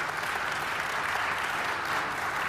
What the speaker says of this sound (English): give George a round of applause